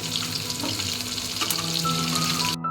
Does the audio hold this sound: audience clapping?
no